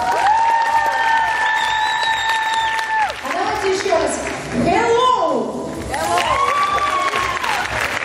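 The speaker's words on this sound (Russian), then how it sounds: "Аня, мне кажется, или на физмате аплодируют громче." An audience at a student arts festival applauds under loud amplified speech, the clapping forming a steady wash behind the talk.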